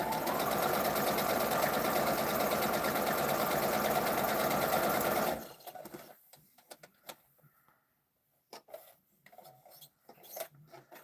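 A sewing machine stitches fabric in a steady, fast mechanical whir for about five seconds, then stops, followed by quieter scattered handling clicks and rustles with pauses between them.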